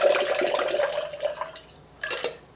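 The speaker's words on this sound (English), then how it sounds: "And then you start pouring and you move the bottom one away." Liquid streams while a drink is thrown back and forth between two glasses held high apart, a steady close pour for about two seconds, then a brief splashy burst as the glasses come back together.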